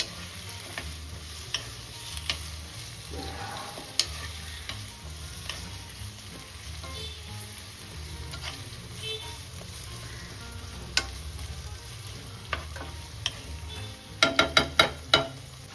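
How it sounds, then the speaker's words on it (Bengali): Ridge gourd, potato and onion frying in a pan: a continuous sizzle under occasional light stirring taps, ending with a quick run of sharper clicks of a utensil against the pan. "ঝিঙে আলু আর পেঁয়াজটা ভালো করে প্রথমে ভেজে নেব"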